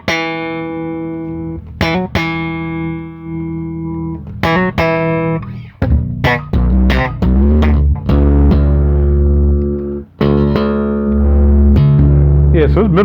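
Active electric bass guitar with onboard EQ, played close and loud: a run of plucked, ringing notes with sliding pitch changes and brief gaps between phrases.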